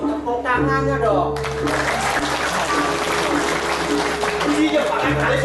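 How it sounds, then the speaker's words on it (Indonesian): Crowd applause during a live Balinese drama gong stage performance, dense clapping rising after a short spoken line, with music and voices underneath. "tepuk tangannya dong"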